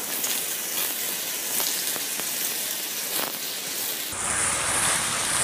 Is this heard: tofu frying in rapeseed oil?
yes